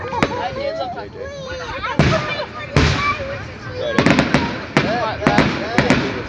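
Fireworks burst at a marina show: a series of sharp, loud bangs and pops at irregular intervals, clustering toward the end, with people chatting and reacting between and over the blasts.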